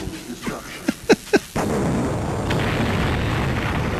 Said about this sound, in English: there's pieces of her landing from the explosion